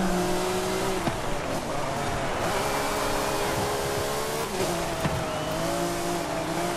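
Race car engine roaring in Forza Horizon 5, loud and close, with tyre squeal rising and falling through the corners and shifting revs, all sounding continuously.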